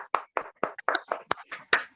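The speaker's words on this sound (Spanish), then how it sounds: "le damos un cálido aplauso" Scattered handclaps from a small online class come through open microphones: about eight uneven claps over two seconds, fairly close and dry, with no talk.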